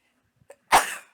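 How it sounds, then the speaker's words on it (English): A single loud, close sneeze, preceded by two small sharp intakes of breath and trailing off quickly. "Hang on, I gotta sneeze."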